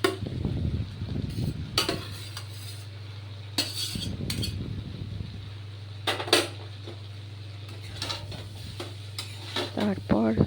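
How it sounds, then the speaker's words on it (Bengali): A spoon scrapes and knocks in a pot while rice and vegetables are stirred for veg biryani, with soft clinks and short scraping strokes over a steady low hum. "তারপর যতক্ষণ না পর্যন্ত ওরা পুরো মিক্স হচ্ছে সবজিটার সঙ্গে, ততক্ষণ পর্যন্ত নাড়তে থাকবো সুন্দর করে"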